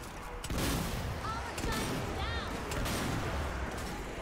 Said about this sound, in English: Throwing frag. Throwing that one as well.